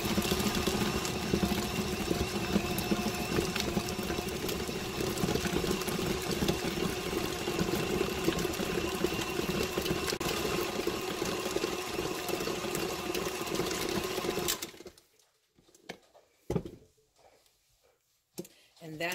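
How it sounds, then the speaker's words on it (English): A KitchenAid stand mixer whips a bacon ranch cheddar cheese ball mixture with a steady, loud mechanical whir that runs continuously, then cuts off abruptly, leaving a few faint clicks and bumps in near-silence. "That's how quick it takes if you've got a mixer."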